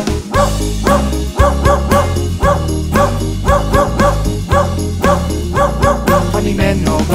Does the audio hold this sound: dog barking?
yes